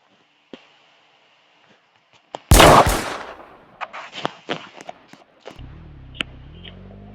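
Gunfire at an exhibit: a sharp, loud burst of shots around the middle, after faint scattered clicks and taps, followed by irregular knocks and a low steady hum near the end.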